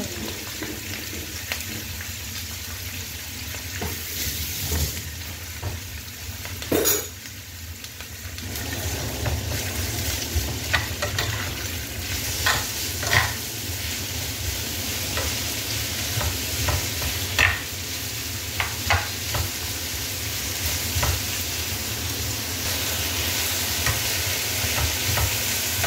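Many onions frying in a pan for a sardine dish, a steady close sizzle with stirring scrapes and occasional clatter, running continuously without talk.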